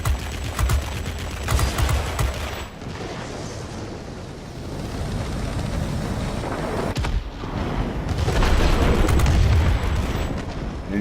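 Aircraft machine guns firing in a World of Warplanes furball dogfight, heard as loud, dense bursts of rapid gunfire that come in two long stretches separated by a brief lull, over a constant engine roar.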